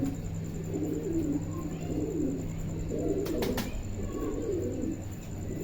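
Pigeons coo in a loft where a young squab sits in a nest box, low burbling calls rising and falling close by with a steady background hum and a couple of sharp clicks.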